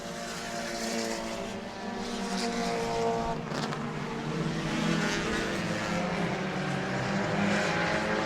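Mini stock race cars in a heat race roar past continuously at a short track, with a dense, droning layered engine note that rises and swells, loud and sustained without a break.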